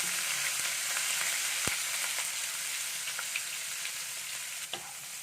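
Chopped shallots hit hot oil with popping mustard seeds, giving a steady close sizzle with a few sharp crackles and one stirring knock, and no talk.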